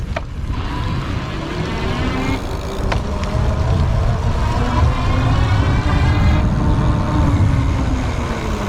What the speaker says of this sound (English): pedal and stop pedaling a few times so that you can hear the motor kick in